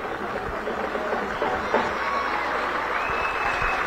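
Stadium crowd applauding Itabaiana's number 16, Wendel, as he is substituted off during a Campeonato Sergipano 2024 match against Dorense; a steady, broad wash of clapping and crowd noise continues throughout.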